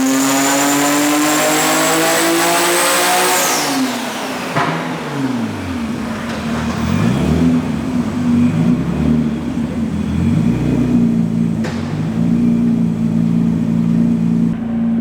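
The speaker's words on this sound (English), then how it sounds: "It's gonna want some RPM, so we're gonna give it to it." A Nissan Skyline R33 GT-R with a large RB engine revving hard on a dyno, first a high sustained scream, then a falling and rising roar of loud engine sound through the run, close and continuous.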